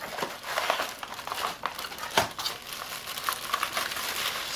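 Plastic packaging around a Shimano XT SM-RT86 160mm 6-bolt disc rotor is pulled open, giving close, continuous crinkling and crackling with a sharper tearing pop partway through, no voices.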